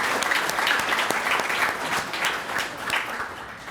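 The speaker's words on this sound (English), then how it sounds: "let's just keep applauding" A crowd at a 2022 athletics Hall of Fame ceremony keeps applauding for the inductees, a steady, full round of clapping that carries on alone without any voices.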